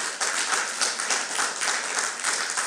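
A church congregation at a fasting and prayer service applauds steadily, dense clapping that swells and holds throughout without pause.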